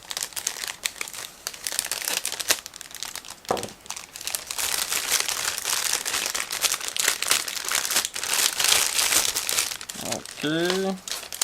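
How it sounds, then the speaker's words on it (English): Crinkling and tearing of the plastic bag holding a 1/35 Miniart T-60 Screened model kit, close and continuous with sharp rustling bursts, ending in a brief rising squeak-like sound. "Now in the meantime I will try to open the second plastic bag"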